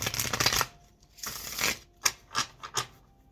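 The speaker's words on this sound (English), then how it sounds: "Two more shuffles, please." Tarot cards are riffled and shuffled close by in a long burst, a pause, another burst, then several short, sharp flicks.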